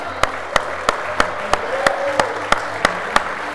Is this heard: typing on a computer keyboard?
no